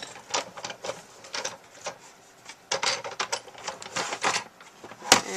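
Big Shot die-cutting machine running paper and thin metal cutting plates through its rollers, giving uneven mechanical clicks, creaks and grinding bursts that rise and fall over several seconds, close and moderately loud, with no voices.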